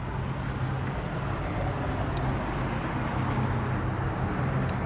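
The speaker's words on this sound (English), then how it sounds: "Nice, cool sounding car. I know we got a lot of road noise" A restored yellow collector car on SS wheels drives along, its engine a low steady drone mixed with heavy broadband road and wind noise, continuous and unchanging.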